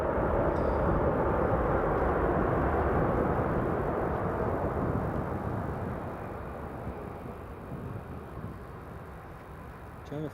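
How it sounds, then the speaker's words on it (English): Saudia Airlines Boeing 777 rolling down the runway after landing at Newcastle International Airport, a steady broad engine and rolling roar that slowly fades as the jet moves away. "Nice landing, looks like he's rolling all the way to the end of the runway."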